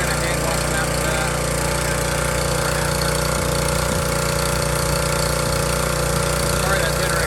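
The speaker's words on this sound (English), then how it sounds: "that generator's gonna be pretty loud." A generator runs loud and steady for the whole stretch, a constant engine drone with a low hum during work on a 1972 Imperial that sat unused for 41 years.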